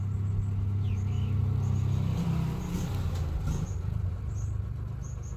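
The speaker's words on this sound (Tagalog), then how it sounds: "Murag tricycle tong niagi" A motorized tricycle passes by outdoors, a low rumbling engine that is loudest early on and then gradually fades as it moves away, with faint chirps above it.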